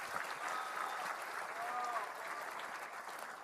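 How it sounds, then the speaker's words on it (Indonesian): A crowd at a presidential state budget speech in Indonesia gives a continuous round of applause, an even, fairly distant wash of clapping heard on its own. "Kita tepuk tangan untuk Pak Joko."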